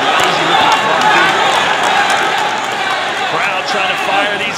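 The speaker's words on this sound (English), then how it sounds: "Crowd trying to fire these guys up." A boxing crowd at a heavyweight bout roars and cheers steadily to rouse the fighters, a loud, dense wash of many voices filling the arena without letup, with a commentator talking over it.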